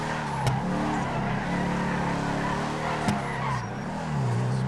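Car engine in GTA 5 revving steadily as the car drifts, a sustained droning tone with pitch rising and falling and a couple of sharp clicks, loud and close, no speech.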